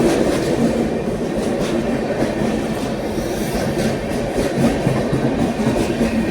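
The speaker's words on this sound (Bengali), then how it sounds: "আমাদের ট্রেন চলে এসেছে, এই তোমরা দেখতে পাচ্ছো ট্রেন ঢুকে গেছে" A train pulls into a station with a loud, continuous rumble and rolling clatter of wagons on the rails, steady and close throughout with no talk.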